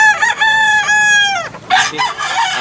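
A rooster at a fowl market in Talisay, Cebu crows loudly and close by in one long drawn-out call, and a second, shorter crow follows.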